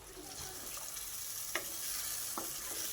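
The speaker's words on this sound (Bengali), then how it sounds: "এবার খুব ভালো করে নেড়ে চেড়ে জিনিসটাকে ভালো করে কষিয়ে নিতে হবে" Mustard paste and pabda fish are stirred in a hot pan, giving a soft, steady sizzle with a few sharp scrapes of the spatula against the pan, heard fairly quietly.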